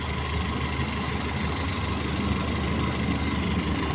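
A car engine idles steadily after its dashpot disengages, on a car with a faulty bimetal vacuum switch. The idle is a constant, even drone with a low rumble, heard alone throughout.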